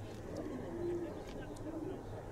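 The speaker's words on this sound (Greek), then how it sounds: "Και βογκάνε τα πουλιά." Soft cooing of pigeons in Siatista, low murmuring calls close by over a steady outdoor background hum, with faint chirps scattered through.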